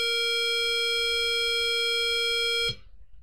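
A steady electronic beep from a ZX Spectrum 48k emulator sounds as one continuous tone for about two and a half seconds, then cuts off abruptly, leaving faint background hiss.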